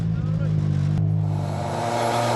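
A 2002 World Rally Championship car on a dry gravel stage in Cyprus, its engine note held steady then shifting into a harsh, rising rev with a broadband rush, close and loud under a commentator's voice.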